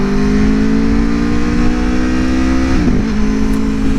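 A 2021 Aprilia Tuono motorcycle accelerating in first gear, a loud, steady engine note climbing in pitch through the run, with a brief dip near the end, close up and with no voices.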